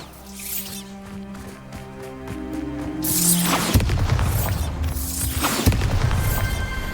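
A Bombarda spell explosion in the video game Hogwarts Legacy erupts as a loud, broad rumbling blast, preceded by tonal musical game effects and followed by lingering crackling debris and a second thump.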